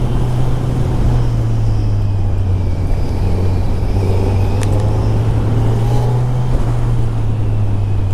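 A motorcycle travelling a narrow mountain road on the Sach Pass route in India, its engine holding a steady loud drone close by, with wind buffeting throughout and no pauses.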